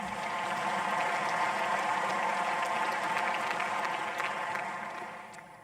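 A large conference audience bursts into sustained applause at the opening of a Black Industrialists and Exporters Conference, dense clapping filling the hall steadily before tapering off near the end.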